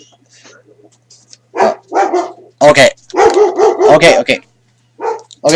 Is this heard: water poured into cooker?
no